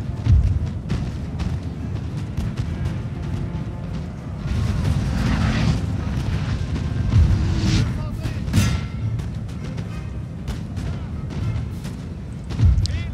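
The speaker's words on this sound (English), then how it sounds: "My artillery that's stationed kind of in my rear is doing a very good job of giving covering fire." Artillery booms from a Napoleonic-era battle video game, with a series of dull, low thuds and rumbles spread across the stretch under a busy battlefield din and occasional sharp cracks.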